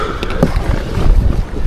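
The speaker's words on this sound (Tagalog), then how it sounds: "Malakas yung hangin mga buddy." Strong sea wind buffets the microphone in a steady broadband roar while a DIY styrofoam fishing kayak is paddled on open water, with a few brief splashes and knocks near the start.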